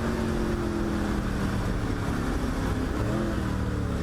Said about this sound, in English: Making downshifts for this very tight turn 12 where we have one of our corner cameras.